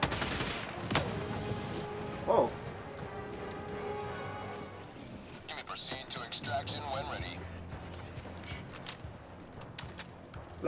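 Gunfire in the video game Helldivers 2, a dense spray of shots and impacts scattered through a busy battle mix, with one louder burst standing out and talk heard over the action.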